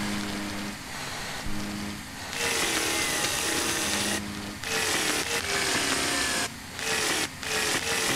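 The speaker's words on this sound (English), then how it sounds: "You wanna check out this chainsaw?" Chainsaw cutting branches in the video game Luigi's Mansion, a harsh buzzing roar that surges and cuts out in repeated bursts of varying length, steady and close throughout.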